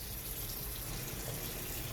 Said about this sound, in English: Add some water. Swirl it around real good. Empty it into that can.